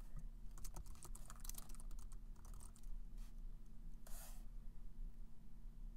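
Someone types on a computer keyboard nearby in quick, uneven bursts of soft clicks against a faint steady hum, with no voices.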